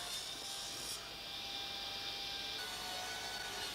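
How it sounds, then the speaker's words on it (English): Beech timber being cut into slabs with a saw, a constant close rasping hiss that runs without a break and stays steady in loudness. "Here I am slabbing up the timber, cutting the beech."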